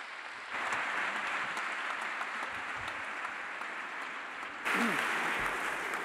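An audience at a scientific research evening gives warm, steady applause that holds through the whole stretch and swells again near the end, with a brief murmur of voices underneath.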